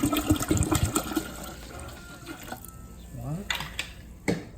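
Cold water from the fridge is poured into sweetened tea for kombucha in a kitchen, a gurgling splash at the start that trails off, with a person speaking nearby.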